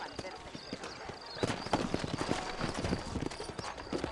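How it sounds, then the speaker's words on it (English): Horse hooves clip-clop on the ground in the Western video game Red Dead Redemption, a quick, uneven trotting patter from several horses at a moderate distance, with someone speaking over them. "You ain't gonna find sturdier horses than these in all of New Austin."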